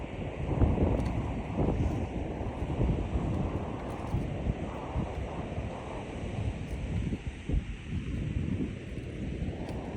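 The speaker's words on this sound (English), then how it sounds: "And then there is just huge waves. I'll catch one for you." Huge ocean waves crashing against rocky shore on the Napali Coast of Kauai, deep rumbling surf surges with heavy wind buffeting the microphone, loud and continuous, no talk.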